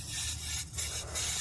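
Pressurized coolant hisses steadily from a leak on a GM 3.8 engine, a close, continuous broadband spray with a low hum beneath and brief dips as the pressure varies.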